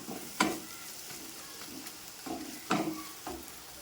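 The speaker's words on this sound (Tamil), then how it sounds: "இது கூட வறுத்து வச்சுருக்கிற சுண்டைக்காய் பாதி எடுத்து இது கூட போட்டு வதக்கிக்கலாம்" Fried turkey berries are sautéed in a pan for kuzhambu, giving a quiet, steady sizzle with a few sharper crackles and stirring clicks, heard alone.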